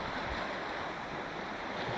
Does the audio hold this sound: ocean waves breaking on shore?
yes